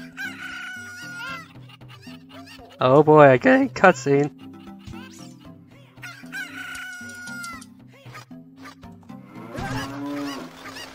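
Cuckoo chickens in Zelda: Ocarina of Time, summoned as a flock, crow and cluck loudly over a game music loop, with a dense burst of squawking near the start and more crowing near the end; someone speaks briefly.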